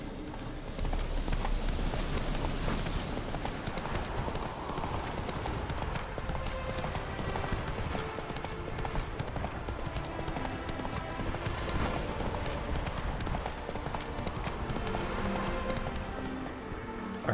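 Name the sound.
herd of wild horses galloping in video game The Witcher 3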